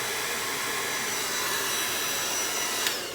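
A blow dryer melts crayons for rainbow crayon-melt artwork, its steady loud rushing whir running without a break, with a brief click near the end.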